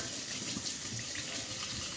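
Warm tap water running into a sink for hand washing in a school kitchen classroom, a steady, fairly quiet hiss of flowing water that continues without pause and without any talking.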